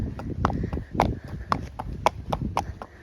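A small donkey's hooves clip-clop at a quickening pace on a Sunday walk, sharp close knocks in an uneven rhythm, about ten hits over a few seconds with light background noise.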